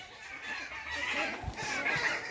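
Chickens cluck in a henhouse at a moderate distance, busy overlapping clucks and calls forming a continuous backdrop with a few low thumps.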